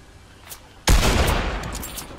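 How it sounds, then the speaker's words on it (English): Gunfire in an online shooter game: a sudden loud burst of rapid shots breaks out after a quiet moment and trails off into sustained crackling fire at close range. "Who's just shooting at you?"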